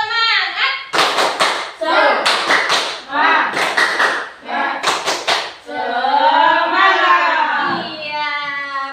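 Schoolchildren perform the tepuk semangat spirit clap, sharp clusters of rhythmic hand claps alternating with chanted children's voices and a teacher speaking, loud and close in a classroom.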